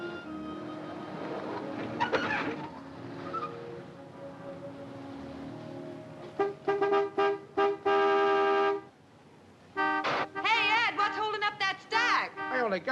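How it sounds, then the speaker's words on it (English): A car horn honks outside in an old film scene, first a long sustained blast, then a string of short, insistent toots after a brief pause, loud and close alongside talk. "Some horn-happy creep just pulled in. Let him honk."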